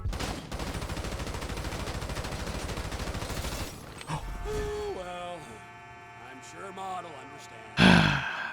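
Rapid gunfire rattles loudly and continuously for several seconds while a bail bond target is chased in GTA V, followed by quieter game sounds and a final sharp burst.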